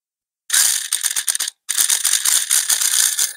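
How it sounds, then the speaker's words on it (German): A small 1/28-scale WLtoys 284131 rear-wheel-drive RC drift car motor held close to the microphone stutters and cogs near start-up on a large ESC, giving a harsh buzzing rattle in two bursts with a short pause between. "dass der verhält sich, als hätte er Cogging. Also er ruckelt und dann fährt er direkt schnell los."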